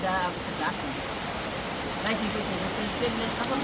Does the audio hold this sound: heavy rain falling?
yes